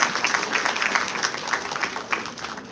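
Steady applause from a large crowd at a law and AI congress at Delhi High Court, dense and continuous clapping throughout, fairly loud with a faint murmur of voices beneath.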